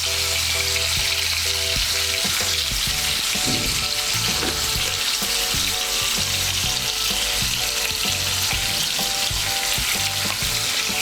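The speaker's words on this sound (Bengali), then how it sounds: "মিশিয়ে নিয়ে আলুগুলোকেও লাল করে ভেজে নেব" Potatoes fry in hot oil with salt and turmeric, giving a loud, continuous close-up sizzle with bubbling crackle and occasional stirring scrapes; no voices.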